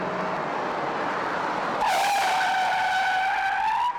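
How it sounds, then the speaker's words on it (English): A car braking hard to a stop from 35 mph during a stopping-distance test: steady road noise breaks into a loud, sustained tire squeal that wavers in pitch for about two seconds before cutting off, with no talk. "At 35 miles per hour, it takes 48 feet before the car comes to a stop."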